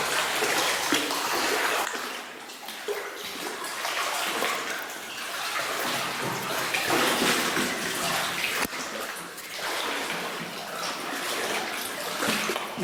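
Boots wading through knee-deep water inside a flooded tramway bore, with rhythmic sloshing and splashing surges close by, each stride swelling and easing in an echoing space.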